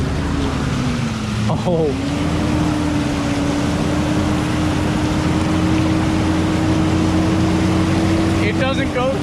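A pickup truck in four-wheel drive churns through deep water, its engine a steady low drone with a sustained tone, while a voice speaks briefly.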